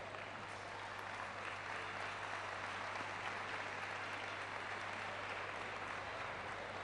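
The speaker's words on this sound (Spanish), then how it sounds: "Para ellos también este aplauso." Sustained applause from a carnival audience at a murga competition in Arrecife, Lanzarote, a steady, even roar of many hands clapping throughout, heard at a distance with a constant low hum beneath.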